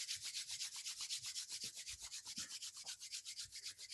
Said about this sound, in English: Rubbing your hands together, generate heat.